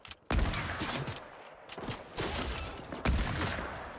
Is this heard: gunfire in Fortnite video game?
yes